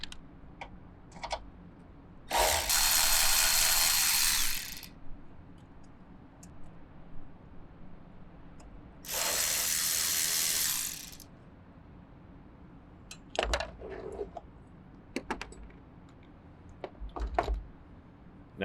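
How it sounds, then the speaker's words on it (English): A ratchet with a deep socket and extension works on the battery of a 5th-gen Toyota 4Runner, giving two sustained bursts of quick ratcheting several seconds apart, followed by a few scattered light clicks and taps nearby. "Next, I will go back to that deep socket. Probably throw the extension on just for convenience."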